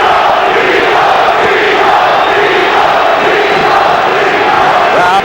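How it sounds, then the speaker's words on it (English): Boxing arena crowd at a Felix Trinidad fight, a loud, dense roar of many voices filling the whole clip with a steady rhythmic chant-like swell, no clear break. "Crowd chanting Tito, Tito, Tito, Trinidad's nickname."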